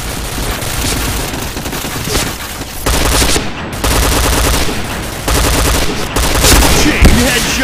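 Sustained automatic fire from a P90 with extended magazine in the shooter game Point Blank: loud, dense rapid bursts that run almost continuously, with brief gaps between volleys.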